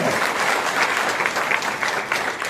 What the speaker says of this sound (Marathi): एक मोठा टाळ्यांचा कडकडा